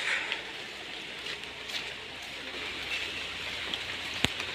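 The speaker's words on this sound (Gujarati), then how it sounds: "અટાણે વરસાદ વધી ગયો છે" Rain falls steadily in Kerala, a dense, even hiss with a few sharper drop hits, continuing without a break and with no talking.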